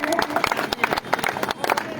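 An audience at an awards ceremony breaks into dense, continuous applause, many hands clapping loudly and close together, with voices mixed in beneath.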